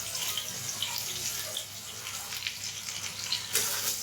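Onions frying in a pan while being browned, a close, steady crackling sizzle with soft wet bubbling and a few brighter pops toward the end.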